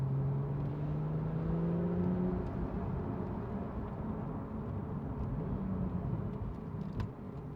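A 2017 Porsche 911 Carrera 4 GTS turbocharged engine drones steadily from inside the cabin, with rising whine tones from the turbos and a constant low rumble throughout.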